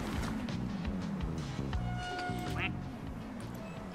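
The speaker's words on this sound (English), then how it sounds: "Wait, do I have two ducks over there?" Cartoonish duck quacks from a video game, several short nasal calls and a rising squeaky tone over game sounds, with a person talking throughout.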